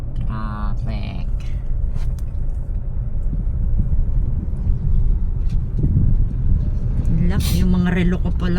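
City road traffic rumbles steadily along, a continuous low drone of passing cars with a brief high horn-like burst near the end, and a voice talks briefly at the start.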